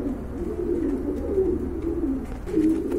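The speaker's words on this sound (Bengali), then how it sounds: "এই যে দেখেন অনেক বড় সাইজের কবুতর" Several pigeons coo in low, throaty, overlapping calls, close by and continuous, with soft rustling in the background.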